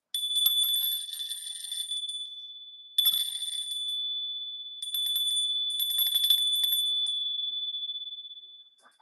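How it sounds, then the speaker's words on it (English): A bell rings in sustained bright metallic bursts, with a loud clang at the start, another strike a few seconds later and a longer ring that fades out, heard close and alone without speech. "We've got a ring dinger of a bell."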